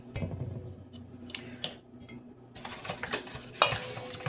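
Flour is worked into homemade bun dough with scattered scraping and stirring strokes and soft thumps, quiet and close, growing busier in the second half.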